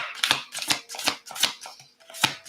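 Tarot cards being shuffled and drawn, a run of crisp papery riffles and slaps repeating in quick bursts, close and fairly loud with no talk.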